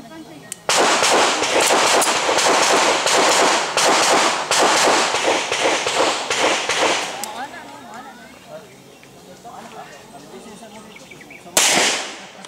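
A rapid series of sharp gunshots at a practical shooting practice cracks out in quick succession for several seconds, then quieter activity and voices, ending with one more loud burst.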